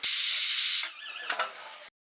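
A pressure cooker vents steam while boiling a country red rooster chicken, a loud, close, sharp hiss that cuts off abruptly and leaves a faint rattling whistle that quickly dies away.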